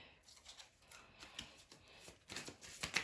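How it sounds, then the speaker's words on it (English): Tarot cards being shuffled by hand, a run of soft, quick riffling flutters that come in short bursts, close and fairly quiet, with no voices. "I'm shuffling your tarot cards on camera."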